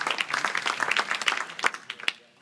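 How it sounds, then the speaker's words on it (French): An audience applauds a teen theatre troupe at a festival evening, a brief burst of dense, close clapping that thins out and fades. "J'aimerais que vous les applaudissiez très fort d'ailleurs, puisqu'ils sont avec nous ce soir."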